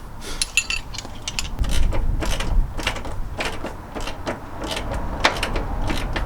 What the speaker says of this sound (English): Now we're going to remove these 3 bolts and then the mount can come off.